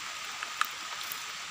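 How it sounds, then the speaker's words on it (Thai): Rain falls in a forest during mushroom gathering, a steady, even hiss with a few soft drip ticks, moderately close and with no voices. "มื้อนี้ได้หลายแต่ฝนตกจ้ะเปียกมาเลยโห"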